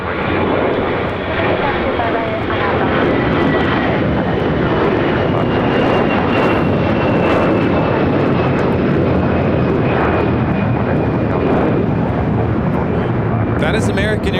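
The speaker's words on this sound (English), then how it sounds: "That is American Airlines 2882 taking off to Dallas-Fort Worth on an A321." An American Airlines A321 takes off from LAX bound for Dallas-Fort Worth, a loud, close, sustained engine roar with rumbling broadband noise lasting the whole stretch.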